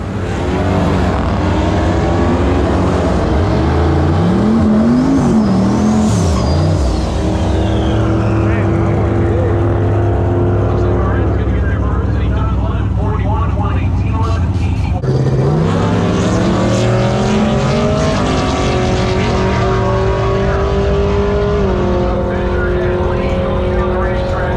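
A Chevelle and a Camaro run at a drag strip, their engines roaring loudly and continuously with rising and falling revs and one sharp shift midway, while people talk faintly underneath.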